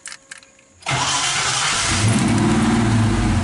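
A 1986 Ford Mustang Foxbody fitted with an SVE mini high-torque starter sits quiet until the starter kicks in just under a second, and the engine catches at once, settling into a loud, steady run.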